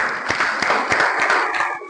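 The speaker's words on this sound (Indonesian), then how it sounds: "Boleh kita beri tepuk tangan." Classroom applause after a student finishes a task, a short spell of clapping from a small group, fairly close and steady with a few individual claps standing out.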